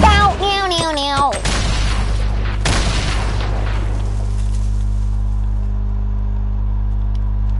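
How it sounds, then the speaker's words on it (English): A single heavy grenade blast in a video game lands near the start, a sharp boom followed by a long low rumble that fades slowly, with a voice talking briefly over the opening. "Grenade in 5, 4, 3, 2, 1. Drop it."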